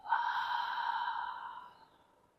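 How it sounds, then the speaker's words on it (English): A single long, soft exhale through the mouth at the close of a yoga class, breathy and airy, fading out gradually over about two seconds. "a full breath out."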